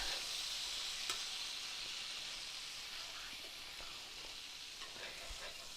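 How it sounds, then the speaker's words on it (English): Butter melting in a pan for homemade sausage gravy gives off a steady, fairly loud sizzle and hiss that runs throughout, with a few faint pops and clinks along the way. "we're going to melt that butter in the pan"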